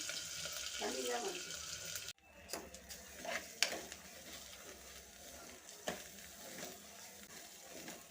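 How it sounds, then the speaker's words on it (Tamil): Washed dal and rice roasting in ghee in a cooker, soft quiet sizzling with occasional scrapes and clinks of a spoon against the pot, close and low in level. "இந்த நெய்யில் நம்ம அலசி வச்சுருக்க பருப்பையும் அரிசியும் நம்ம வறுத்து எடுத்துக்கலாம்."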